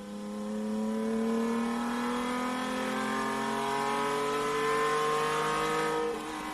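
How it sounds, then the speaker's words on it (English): A Ferrari V6 race car climbs a hill through a waterworks section, its engine revving hard in one rising, sustained howl that holds loud and close before fading at the end. "It's a wonderful noise the V6 engine is making as he comes up the hill through the waterworks section."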